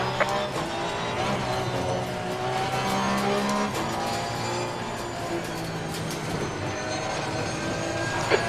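Porsche Cup race cars lapping Bathurst in a racing video game, a steady loud engine drone with shifting gear pitches and occasional tire noise, continuous throughout with no talking.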